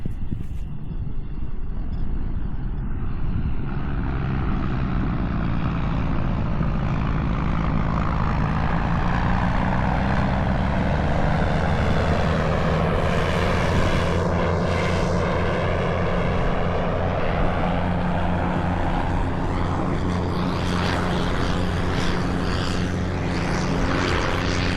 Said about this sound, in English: Hear that? That's the train that's coming!